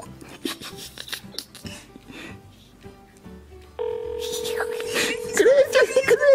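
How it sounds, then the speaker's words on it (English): A run of steady touch-tone beeps from a phone keypad, preceded by quiet chatter and shuffling, with a voice rising over the final tones. "dial the number"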